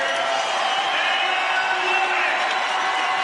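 Basketball crowd at the Knapp Center roaring in a steady, dense wall of cheering and shouting, continuous and loud throughout with no break.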